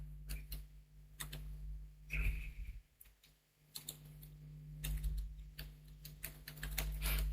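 Keys tapped on a computer keyboard while a username and password are entered, quiet irregular clicks in short bursts with a brief pause, over a low steady hum.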